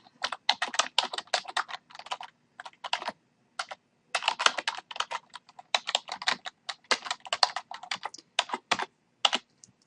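Brisk typing on a computer keyboard, close and crisp, with clustered runs of key clicks broken by short pauses, going on steadily with no voice over it.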